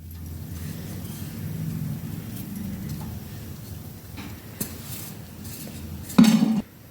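Grated coconut being roasted in a pan for Maharashtrian karanji filling, quiet spatula scraping and shuffling against the metal, then a brief louder clatter near the end.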